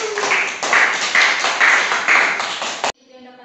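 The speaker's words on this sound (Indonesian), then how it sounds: "Oke, beri aplaus ya." Brief applause closing a classroom teaching session, a few seconds of dense clapping in loud swells that cuts off abruptly, followed by a faint tone.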